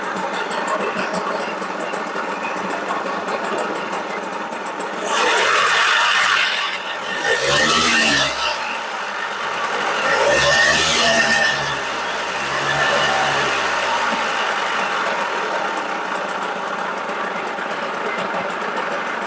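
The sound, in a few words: Tohatsu 3.5 two-stroke outboard motor starting and running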